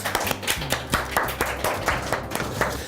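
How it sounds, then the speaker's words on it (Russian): An audience on a Tatar cooking show claps along in a steady rhythmic beat, about four claps per second, close and fairly loud over a faint room hum. "Под ваши, Оля, аплодисменты."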